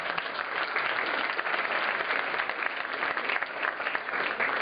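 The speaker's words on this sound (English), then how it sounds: "Give him a round of applause." A meeting audience applauds their advisor, Frank Judas, with steady, dense clapping that fills the room evenly from start to finish, with no voices over it.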